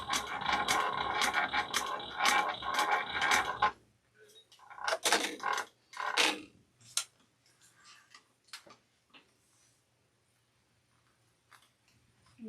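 A sewing machine back stitches a handbag in a rapid rhythmic burst of needle strokes, then stops, and scattered clicks and handling noises follow.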